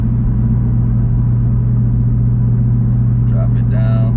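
A steady low engine drone and exhaust rumble from a Chevrolet Camaro ZL1 with an H-pipe catback exhaust cruising at 70 mph, constant and loud, with a brief higher chirp near the end.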